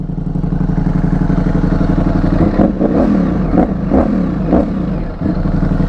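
Ducati motorcycle engine, running with cylinders cutting in as it goes into gear, a loud close throbbing idle with repeated sharp revving pulses and mechanical clatter.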